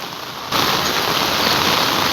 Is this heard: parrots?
no